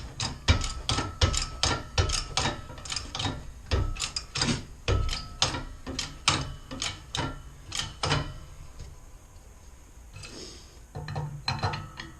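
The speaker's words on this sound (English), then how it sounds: "So, now I need to tighten this, and then I start forcing it down." A ratchet wrench tightens a press tool to force a bushing out of a 1979-95 full-size Chevy/GMC van, with rapid clicking in bursts, a brief pause, then a few more clicks.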